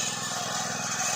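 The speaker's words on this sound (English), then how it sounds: "we're drilling through rock." A well drilling rig grinds through rock beside a piggery, a steady, loud mechanical drone with a fast regular pulse, close and continuous with no talk over it.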